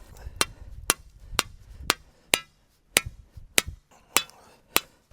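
A steel bar, half an inch thick, is hammered into a half-inch hole in timber for a bridge, with about ten sharp metallic strikes at a steady, slightly uneven pace, close and loud over faint background noise.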